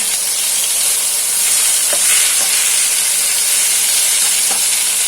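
Shrimp paste stir-fried in oil left over from frying an omelette, giving a loud, continuous hiss and sizzle close up, with faint scrapes of a spatula against the pan now and then.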